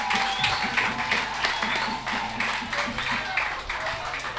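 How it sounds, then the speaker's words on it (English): An audience at a political party zonal meeting in Gouyave applauds steadily, dense clapping sustained throughout, with a voice speaking over it. "Give her more claps."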